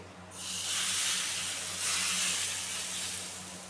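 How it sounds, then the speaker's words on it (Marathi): Hot tempering of asafoetida, mustard seeds and curry leaves poured onto raw mango chutney, a loud close steamy hiss that swells twice and slowly fades, with no talking. "मस्त ही कडक फोडणी आहे ना आता त्या चटणीवरती टाकायची"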